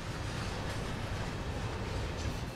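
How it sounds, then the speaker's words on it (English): A train approaches in the Train Sim World game on the Great Western line, a steady rumble of wheels and rail noise that holds at an even level, with no talk. "I can hear another train coming"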